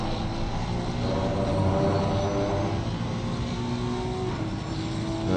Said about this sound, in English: We do love these engine sound